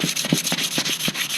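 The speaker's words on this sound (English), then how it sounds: "But with a little bit of sanding" A car bumper on an E36 328is is hand-sanded with a 320 pad, giving soft, close scratchy rubbing strokes in a quick, uneven back-and-forth rhythm.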